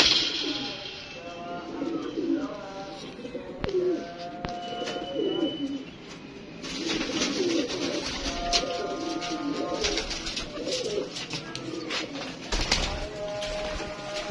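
Several pigeons coo in repeated low bursts around a rooftop loft, with occasional chirps, moderately close and under intermittent background noise and some voices.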